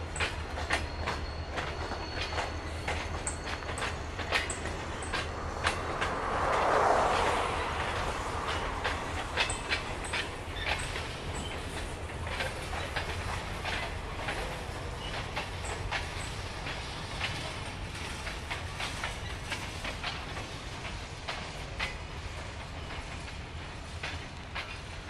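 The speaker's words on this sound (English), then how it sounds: "CSX 6129, and that train is not 20 feet from me." A CSX freight train with box cars rolls past about 20 feet away, with steady rhythmic clacking of wheels over rail joints and occasional metallic squeals, sustained throughout.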